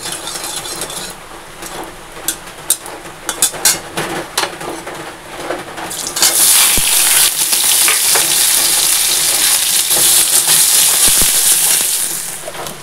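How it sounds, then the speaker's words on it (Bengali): Snake gourd fries with onion in a hot pan, tempered with nigella seeds and dried chilli, giving a loud steady sizzle that swells into a strong continuous hiss midway, with occasional stirring clatter. "এখানে চিচিঙ্গা ভাজা হচ্ছে"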